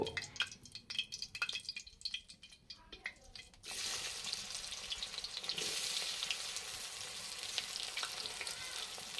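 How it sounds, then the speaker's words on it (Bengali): Mustard oil sizzles and crackles steadily as onions fry with dried red chillies in a hot wok, starting with scattered stirring sounds before a loud, continuous hiss takes over. "কড়াই গরম করে তাতে সর্ষের তেল দিয়ে শুকনো লঙ্কা দিয়ে প্রথমে পেঁয়াজগুলিকে ভেজে নেব।"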